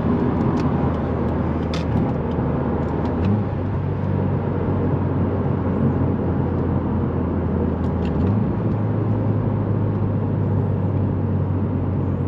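A 2018 Subaru WRX turbocharged engine pulls hard under boost, a loud continuous drone heard close up that rises in pitch and drops as gears shift, with no talking.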